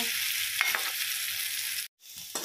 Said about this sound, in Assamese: ভাজি আছোঁ আৰু আলুখিনি ভালদৰে ৰঙচুৱা হোৱালৈকে ভাজি থাকিম